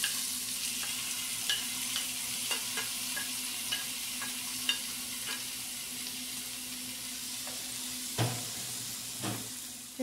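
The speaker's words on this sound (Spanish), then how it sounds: "en este mismo sartén le puse un poquito más de aceite y le voy a poner un ajo picadito para que se sazone" Chopped garlic frying in a little oil in a pan, a soft continuous sizzle with occasional light scrapes and stirring clicks, fairly quiet and close, no voices.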